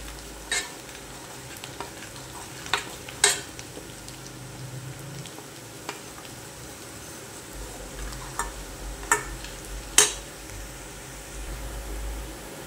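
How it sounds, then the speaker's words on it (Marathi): Onion frying and browning in a pan for sukat rassa gives a steady low sizzle with scattered sharp ticks and scrapes of stirring, close and moderately quiet, with no talking. "आपला कांदा छान करपू लागला आहे।"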